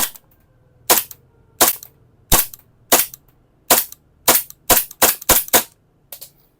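A toy blaster gun fires about a dozen sharp, loud cracks, irregularly spaced and bunched closer together near the end, each shot close by against a quiet background.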